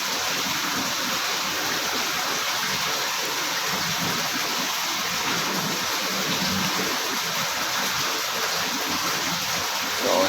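Water pouring steadily into an SBR tank at a sewage treatment plant, a constant, dense hiss and rush like a running stream that holds an even level throughout with no pauses.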